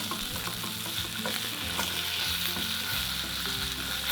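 Pork chop frying in a hot pan, a steady close sizzle and crackle with small pops throughout, with no voices.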